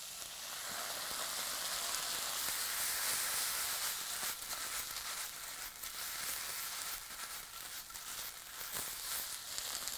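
Buffalo sauce sizzles in a hot pan, a close, continuous bright hiss and crackle with scattered sharper pops and spits throughout, no voices.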